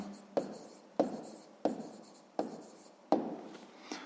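Pen strokes on paper while writing down the answer to a sixth-grade math exercise, five or six sharp scratchy strokes each trailing off, evenly spaced about every 0.7 seconds, close and fairly quiet with no talking.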